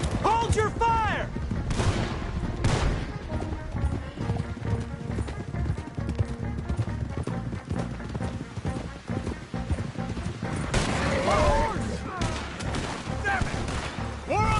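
Rapid gunfire in a Red Dead western video game shootout, volleys of shots crackling amid galloping horse hooves and clattering action, dense and continuous with shouted voices mixed in.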